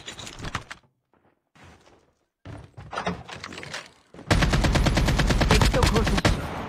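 Gunfire in an online shooter game, with scattered shots and thumps early on, then a long, loud run of rapid, evenly spaced blasts close up near the end.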